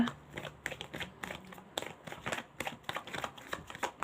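Tarot cards are shuffled by hand in quick, crisp riffling bursts with short pauses between them, close and fairly quiet.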